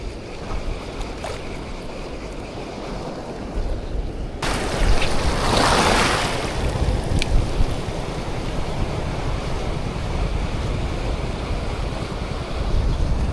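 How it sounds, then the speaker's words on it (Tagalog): Strong sea waves at Sabang wharf wash and surge close by, mixed with wind buffeting the microphone, a swelling roar that rises after a few seconds and stays continuous. "Matagal nang malakas ang alon dito sa amin, sa Sabang."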